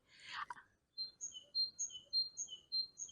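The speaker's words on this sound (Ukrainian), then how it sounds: "Чуєте, як птахи в мене тут свірінчать?" A high-pitched noise up front, then birds chirp in short, thin tweets repeating steadily at moderate distance, fairly quiet against a calm background.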